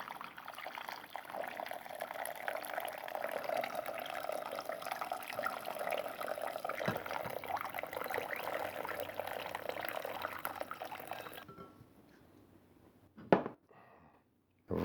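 Water pours steadily from a lidded cooking pot of Iranian lamb stew (abgousht) through a small gap under the lid, a continuous splashing flow for about eleven seconds, then stopping with a couple of clanks of the lid and pot.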